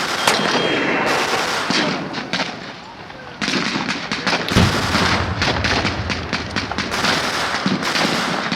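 Gunfire at a D-Day field battle reenactment, with repeated loud blank shots and booming reports in bursts and volleys, shouted commands and voices mixed in among the firing.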